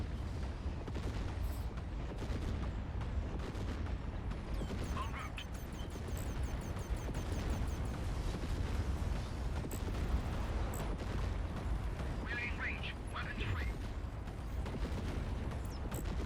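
Spaceship weapons fire from the space battle game Fractured Space, a dense, continuous barrage of booming shots and mechanical rumbles with occasional higher zaps, loud and unbroken throughout.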